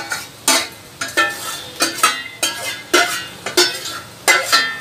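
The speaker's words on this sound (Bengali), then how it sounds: "জল খেয়ে ডালটাকে একটা বাটিতে ঢেলে নিই" Cooked dal is ladled out of a saucepan into a bowl in a regular rhythm of loud scraping strokes, about eight close-up bursts with short pauses between them.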